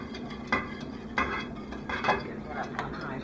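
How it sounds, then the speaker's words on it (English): Polenta with nutmeg whisked in a pot, several sharp scraping clinks of the whisk against the metal sides, coming every half second or so over a low kitchen hum, with no talk. "let me just keep whisking"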